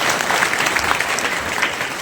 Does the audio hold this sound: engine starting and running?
no